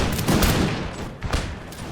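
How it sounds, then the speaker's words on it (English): Grenadiers in the video game Imperial Splendour fire a musket volley, a dense crackling fusillade of overlapping shots over a rumbling battle din. "it should be just in time for the grenadiers to open fire"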